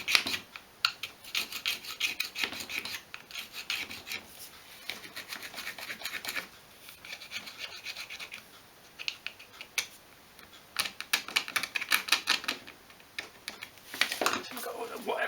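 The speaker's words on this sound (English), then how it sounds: "I've got a wire brush." A wire brush scrubs the grooves of a Nissan Sunny/Pulsar accelerator pedal from a CA18DE setup, a close, faint scratchy rasping in repeated back-and-forth strokes with brief pauses.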